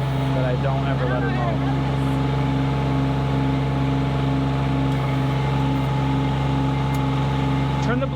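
A walk-behind mower engine runs with a steady loud drone, its blades engaged while mowing a lawn, and brief voices come up over the constant hum.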